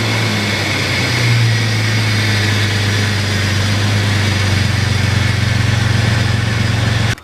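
A car engine idles steadily and loudly while the steering wheel is turned lock to lock after a power steering line replacement, with a strained hum that shifts slightly in pitch, then cuts off at the end.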